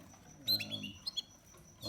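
Young Border Fancy canaries chirp a few short, bright tweets close by in a breeding room, against a quiet background.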